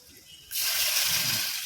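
Water is poured into a pan while cooking dal sandge, a sudden steady rush of liquid that starts partway through and continues at a fairly close, even level.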